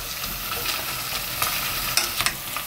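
Beef stir-frying in a pot for Korean beef radish soup, a soft constant sizzle with scraping stirs and a few sharp clicks of a utensil near the end.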